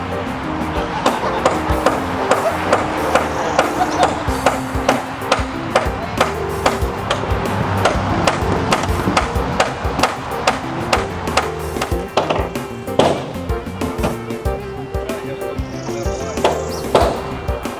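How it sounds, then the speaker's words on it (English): A sledgehammer drives a cold chisel in a long run of sharp, ringing metallic strikes, mostly in a steady rhythm with a few short pauses, loud and close. "a sledgehammer, a cold chisel, and a good right arm, the situation is soon resolved"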